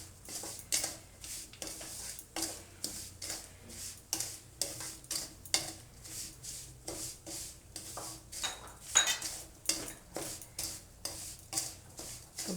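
Coconut roasting in ghee in a pan, heard as a quiet series of rhythmic scrapes and taps as a spoon stirs against the metal, repeating steadily with only a faint sizzle underneath.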